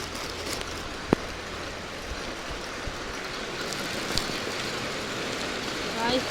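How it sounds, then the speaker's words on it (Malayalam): Heavy rain pours steadily outdoors, a dense continuous hiss with a few louder drip-like clicks and knocks standing out, fairly close and filling the scene without any talk over it. "ഭയങ്കര മഴയാണ്"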